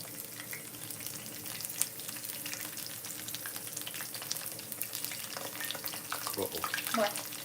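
Chicken frying in a pan of oil for a copycat KFC bowl, a steady soft sizzle with scattered small pops and a few sharper crackles near the end, quiet and close.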